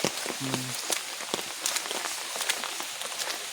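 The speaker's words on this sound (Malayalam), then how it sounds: "മഴയാണ്." Rain falling outdoors, a steady hiss with scattered sharp drop patters on surfaces, continuous and fairly close, with no speech.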